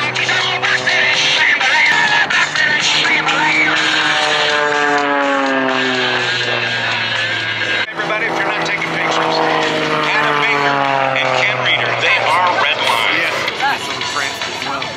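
Propeller aerobatic plane performing rolls and tumbling maneuvers at the New Orleans air show in Belle Chasse, its engine droning steadily with rising and falling pitch sweeps as it maneuvers, loud throughout under continuous crowd and announcer noise.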